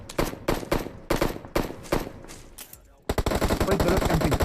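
Rapid bursts of automatic gunfire in a shooting video game, loud and close, with several short volleys followed by a sustained stream of fire.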